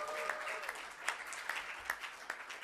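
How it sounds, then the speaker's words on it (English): A modest crowd applauds child actor Sunny Pawar at an Australian Academy of Cinema ceremony, with steady clapping and a few sharp, distinct claps standing out close by. "Round of applause for Sunny."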